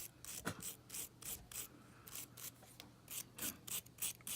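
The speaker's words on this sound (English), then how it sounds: "I like to go over the joint just with a wire brush and just take off any flux residue" A wire brush scrubs flux residue off a freshly soldered connector joint, giving quiet, rhythmic raspy strokes, about a dozen back-and-forth swipes in quick succession, close up with no talk.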